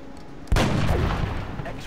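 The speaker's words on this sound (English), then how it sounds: "Go ahead and take the shot," A single loud gunshot in the XCOM: Enemy Within video game, an abrupt blast followed by a sustained rumbling tail, with no talking.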